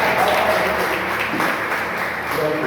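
A church congregation at a doctrine service applauds with steady, dense clapping that fills the space, with faint voices mixed in underneath.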